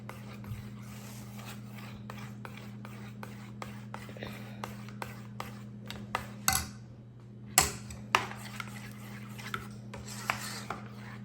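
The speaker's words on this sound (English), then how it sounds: "I want to stir it probably about 2 minutes" A spoon stirring food in a pot during Thanksgiving meal prep, giving soft scraping strokes and light clinks against the pot at an irregular pace over a constant low hum, close and fairly quiet, with a couple of sharper knocks.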